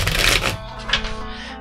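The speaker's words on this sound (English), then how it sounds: "just shuffle like you shuffle your normal deck of poker playing cards" A deck of poker playing cards is shuffled by hand in two quick, close papery riffles, the first longer and the second brief, with no talking.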